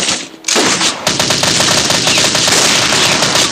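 Sustained rapid machine-gun fire from a shooter video game, loud and continuous for about three seconds after a brief quiet start, with dense overlapping shots and no talking.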